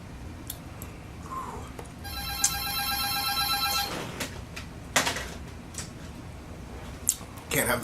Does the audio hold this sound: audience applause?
no